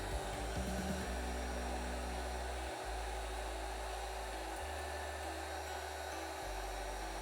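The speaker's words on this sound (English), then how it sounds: "My first thought was to soften the styrene with a heat gun" A heat gun blows steadily and loudly while softening styrene sheet for a miniature craft project, its airflow changing pitch a few times as it is moved or adjusted, with no voices.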